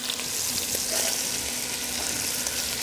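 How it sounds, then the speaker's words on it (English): Bacon cooking in hot oil for brisket chili, a loud continuous crackling sizzle close up, with occasional stirring scrapes and no voices. "So my bacon's cooking in the oil."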